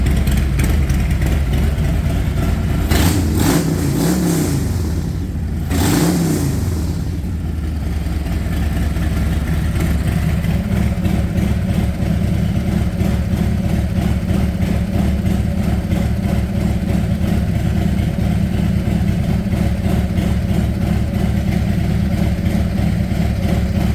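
A Harley-Davidson Road Glide Special with a 122 big bore engine idles loud and close in a steady, lumpy low rumble, with a couple of brief revs early on before settling back to idle.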